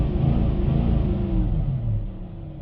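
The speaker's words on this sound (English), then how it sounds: "that's free revving it." A car engine is free-revved while parked in gear during a mobile mechanic's diagnosis, a steady low rumbling drone that holds at high revs and eases slightly toward the end.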